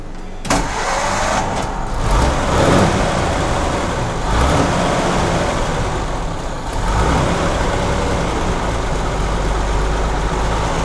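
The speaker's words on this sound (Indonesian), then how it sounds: "Halus loh, dan benar-benar suara 6 silinder bener." A vintage six-cylinder car engine idles steadily and smoothly throughout, a continuous low rumble with slight fluctuations, close by and without speech.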